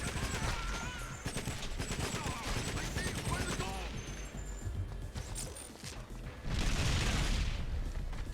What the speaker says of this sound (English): Someone is shooting something.